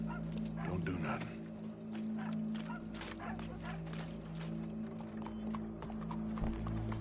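Horse hooves clip-clop in Red Dead Redemption 2 in a loose, uneven rhythm of sharp knocks over a steady low hum, with talk in the background and a dog whimpering and barking.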